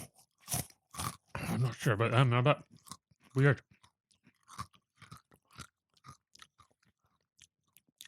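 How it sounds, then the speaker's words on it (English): Crunchy sweets chewed close to the microphone, a quick run of crisp crunches and softer bites that fade as people speak briefly over them. "Make sure you make a lot of noise. Okay, crunchy."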